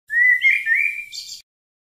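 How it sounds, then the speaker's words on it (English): A bird chirps alone in a short clear call, a bright rising whistle followed by a couple of quick tweets, close and fairly loud. "Birds can fly up in the sky."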